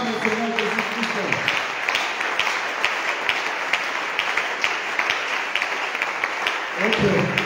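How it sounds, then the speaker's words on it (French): A church congregation applauds, a dense, steady clapping that fills the space for several seconds between brief voiced sounds at the start and end, loud and close. "Acclame le Seigneur Jésus-Christ."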